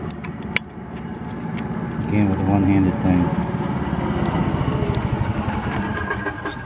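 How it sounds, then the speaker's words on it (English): Road traffic passes outdoors behind a golf cart repair, a vehicle rumbling by and swelling in the middle while someone talks over it. "Too much traffic around here."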